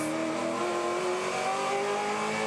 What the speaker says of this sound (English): Just listening for wheel spin there on the exit of that final corner